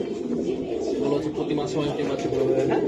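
Pigeons coo in low, throaty warbles over a busy, crowded background at a pigeon market, with people talking close by.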